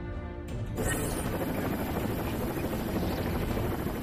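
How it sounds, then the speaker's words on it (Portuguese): A helicopter hovers overhead during a rescue, its rotor throbbing loudly in a steady, dense roar with a rhythmic beating pulse that swells in over the first second and then holds continuously close by. "Socorristas e sobreviventes estão embaixo do helicóptero."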